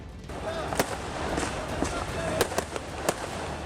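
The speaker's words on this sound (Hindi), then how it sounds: "उन्होंने पुलिस पर ही पटाखों की बौछार कर दी" Sharp firecracker bangs burst out one after another, irregular and loud, over a constant crowd roar, as firecrackers are hurled at police during a confrontation.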